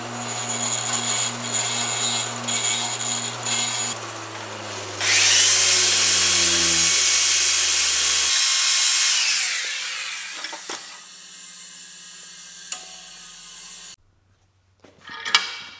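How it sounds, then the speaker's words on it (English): Bench grinder cleaning up a cut piece of metal intercooler pipe during a 1967 Ford F-250 Cummins swap: a loud motor hum spinning up, a sustained gritty grinding of metal, then the wheel winding down to quiet. "I'm just going to clean this up on the grinder here."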